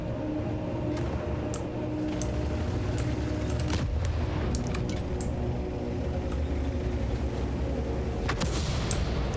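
Artillery in the World of Tanks video game fires in sharp, scattered booms and cracks over a constant rumbling battle bed, loud and unbroken, with no voices.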